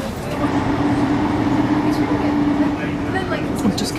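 Inside a moving passenger train, a steady low rumble and rolling hum carries on throughout with a faint sustained tone, fairly loud and even.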